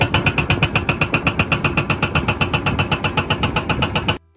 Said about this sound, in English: This is excavator hammer.